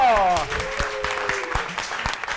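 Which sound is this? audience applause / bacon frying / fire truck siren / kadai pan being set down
audience applause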